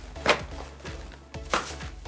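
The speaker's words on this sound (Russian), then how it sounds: "Нарезаем шампиньоны." A knife chops button mushrooms on a board in a few separate cuts, sharp close taps with short gaps between them.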